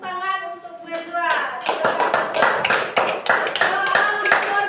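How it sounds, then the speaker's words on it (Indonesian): Children in a classroom clap together for a classmate, a quick burst of rhythmic hand claps that follows a voice and stays fairly loud and close. "Beri tepuk tangan untuk Najwa."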